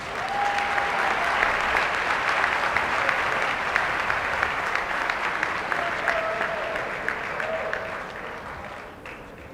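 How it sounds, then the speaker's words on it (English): An audience at a senior awards ceremony gives a sustained round of applause for accomplished students, dense steady clapping that holds for several seconds and then tapers off toward the end. "I think another round of applause is in order for these very accomplished students."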